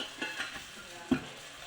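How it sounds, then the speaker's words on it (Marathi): Gram flour roasting in oil on a thin iron pan, a soft steady sizzle with faint scraping stirs and one brief louder knock of the spoon partway through. "तेल टाकून हे बेसन भाजून घ्यायचं"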